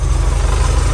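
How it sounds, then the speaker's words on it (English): An old Volkswagen camper van engine idles steadily with a newly attached exhaust, a low, even rumble with a regular pulsing throb, close and continuous, no talk. "Idling perfect."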